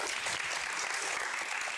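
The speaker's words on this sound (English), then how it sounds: "let's give ourselves a round of applause." Steady applause from an audience at an entertainment talk show, dense and continuous throughout without pause, moderately quiet and heard on its own.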